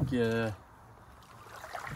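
Outboard motor of a borrowed small boat heading out along a river toward a lake, a loud harmonic engine drone for the first half second that then cuts out, leaving quiet open-air ambience.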